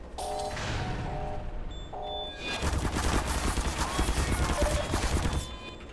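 Red explosive barrels detonate in Half-Life 2, a burst of sharp blasts and rapid cracks that pile together into a dense, loud stretch after a few quieter clanks.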